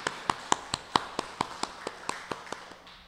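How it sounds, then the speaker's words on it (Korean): Sparse, evenly spaced claps from a church congregation welcoming guests during a Lutheran Sunday worship service, a dozen distinct sharp pops at a steady rhythm, fairly faint and slightly distant. "다 일어나셔서 한번 인사해 주시면 저희 환영의 박수 치겠습니다"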